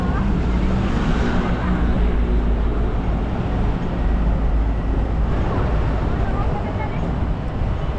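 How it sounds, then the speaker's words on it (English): Heavy street traffic on Avenida de Almeida Ribeiro in Macau, a steady dense roar of engines and road noise close by, with some wind buffeting and faint voices mixed in. "You can hear the roar of traffic again"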